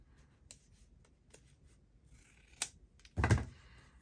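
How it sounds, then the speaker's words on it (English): Scissors cut a paper notebook down the center in a few quiet, close snips and crisp paper sounds, ending in a louder rustling crunch near the end. "I'm going to cut it down the center."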